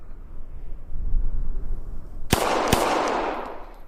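Two sharp gunshots about half a second apart in the ACE VR shooting game, loud and close, each with a bright decaying tail, following a stretch of low background rumble.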